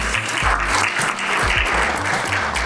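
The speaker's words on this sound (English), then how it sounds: "So give yourself a round of applause, please." Audience applause at a young professionals' conference, steady, dense clapping across the whole short stretch, with a low rhythmic thump underneath.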